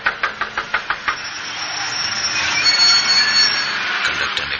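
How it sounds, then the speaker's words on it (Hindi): Seven sharp, evenly spaced knocks on a bus door open a horror story sound effect, then a rising metallic squeal and rumbling engine drone swell and linger. "किसी ने बस के दरवाजे पर दस्तक दी"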